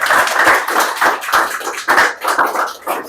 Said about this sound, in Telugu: గట్టే క్లాప్స్ కొట్టాలి మళ్ళీ